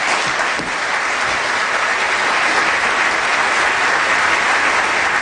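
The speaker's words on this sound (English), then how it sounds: "You're hearing right there the applause following Secretary of State John Kerry" Sustained applause from a large audience after a speech by Secretary of State John Kerry, a steady dense wash of clapping that stays loud and even throughout with no talking.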